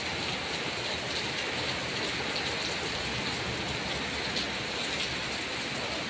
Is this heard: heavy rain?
yes